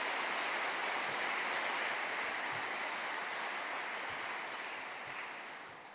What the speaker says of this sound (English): can I ask you a big round of applause for the team of the Australian Museum